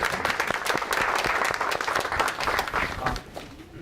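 An audience at an event claps warmly for an introduced guest, dense steady applause that tapers off near the end.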